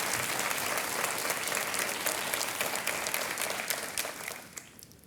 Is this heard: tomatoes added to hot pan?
no